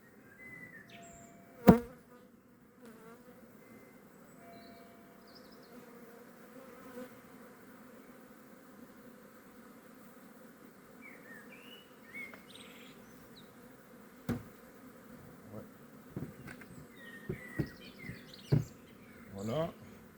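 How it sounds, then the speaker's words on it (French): A swarm of honeybees buzzing around a Dadant hive outdoors, a steady mid-pitched drone running throughout, broken by occasional clicks and knocks, with soft talk and a few bird chirps in the background. "Là vous voyez, il y a pas mal d'abeilles"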